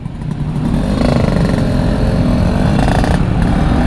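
A motorcycle engine, a Suzuki Satria on a touring ride, runs loud and close with a steady mid-pitched drone that swells slightly, as if the throttle is held open, with no talk over it.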